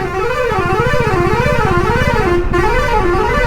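A loud, warbling vehicle horn sounds without a break in busy road traffic, its wavering tone rising and falling steadily for several seconds over a low engine rumble.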